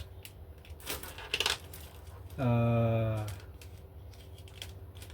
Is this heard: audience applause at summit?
no